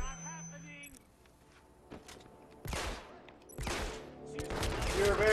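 Gunfire in the stealth video game Hitman Absolution, with several bursts of shots in clusters, loud and close, mixed with game ambience and other effects.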